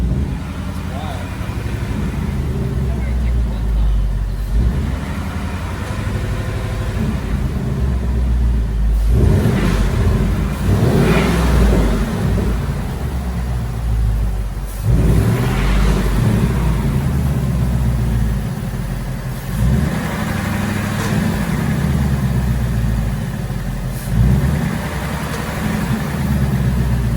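A 2018+ Ford Mustang GT V8 with an engine tick runs while driving, a loud continuous low rumble that swells with several revs and dips, with people talking over it throughout.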